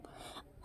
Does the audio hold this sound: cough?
yes